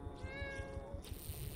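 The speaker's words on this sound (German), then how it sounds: "Is this Bob's cat?" A cat in the video game Greyhill Incident gives a single clear, drawn-out meow, close and alone with no talk over it.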